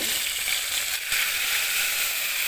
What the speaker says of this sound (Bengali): এখন আমি আগে থেকে লবণ হলুদ দিয়ে মেখে রাখা মাছগুলো দিয়ে দেবো